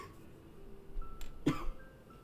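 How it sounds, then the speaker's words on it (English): A single short cough bursts out in a quiet room, brief and fairly close. "The cough gets progressively worse the more I talk."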